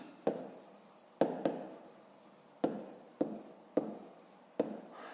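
A pen scratches across a notebook page in short separate strokes, six or seven crisp onsets each fading away, close and quiet with no talk.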